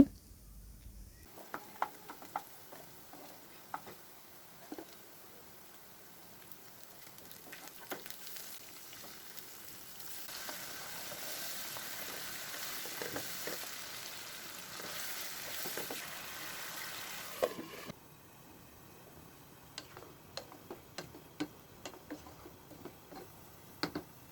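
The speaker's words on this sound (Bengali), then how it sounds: "আর এই চুলাতে এখানে ডিমটা ভুনা করে নিচ্ছি" Eggs being fried as egg bhuna in a pan on the stove: a low sizzle that swells for a stretch in the middle, dotted with scattered clicks and taps of the utensil, with no speech.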